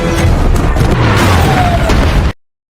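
A plane crashing into its target in a film, heard as a dense roaring boom and rumbling blast that sustains loudly before cutting off abruptly into silence.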